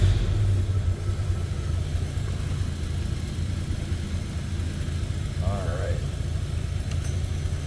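A 1927 Willys Falcon Knight Model 10 sedan engine runs steadily underway, a close, constant low rumble throughout, with a brief voice speaking over it.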